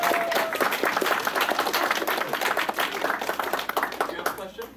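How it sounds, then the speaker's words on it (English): A convention crowd at an Animaine 2018 panel claps for a volunteer, dense fast hand claps close and loud, with a few voices mixed in, tapering slightly toward the end. "Everyone give a round of applause for Colin for putting his life in risk."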